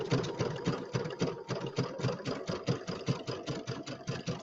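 A sewing machine stitches a settee pillow at close range, its rapid even needle beat running steadily throughout with no talking.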